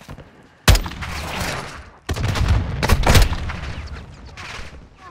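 Gunfire in the Call of Duty: Modern Warfare 2 (2022) campaign: a sharp loud shot, then sustained rattling bursts of rifle fire with booming reports, continuing through the battle noise before fading.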